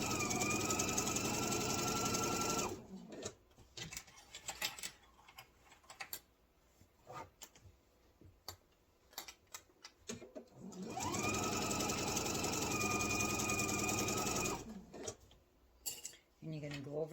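A sewing machine stitches apron fabric in two loud, steady buzzing runs of a few seconds each, separated by a quiet pause filled with small clicks and handling sounds.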